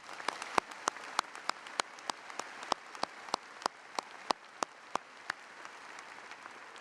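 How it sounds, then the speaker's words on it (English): Sparse, distinct individual claps ring out at a university commencement ceremony, roughly a few per second over a faint crowd wash, sounding distant and quiet rather than a full ovation. "Let's give them a round of applause."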